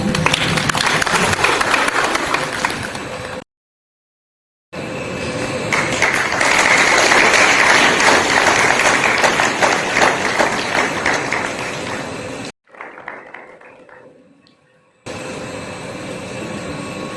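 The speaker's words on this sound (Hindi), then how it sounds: "तालियां सभी बजाते रहें।" Sustained applause from an audience at a tree-planting campaign event in India, a dense, loud wash of clapping that runs for several seconds, breaks off into silence, then resumes, fading and returning near the end.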